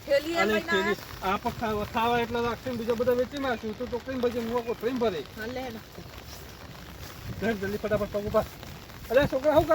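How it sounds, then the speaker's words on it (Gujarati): Rain falls with a steady soft hiss while several people talk and call out over it. "વરસાદ આવ્યો"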